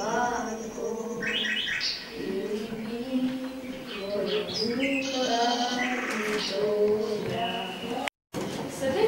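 A nightingale singing, a series of clear chirps, trills and warbling phrases heard close under a person speaking throughout.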